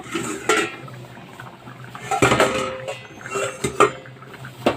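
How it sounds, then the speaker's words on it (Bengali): Metal lid lifted off a cooking pot of vegetable curry with greens, giving a few sharp clinks and scrapes of metal on metal, close and fairly loud, over a faint simmering background. "তো দেখো তরকারিটা আমি ঢেকে দিয়েছিলাম, এবার আমি ঢাকনা খুলে নেব।"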